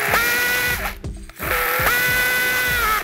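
A connecting-rod bearing cap being tightened during a racing engine build, producing loud, rapid, continuous ratcheting whirs from a power-driven tool in two bursts with a brief pause between, close to the microphone.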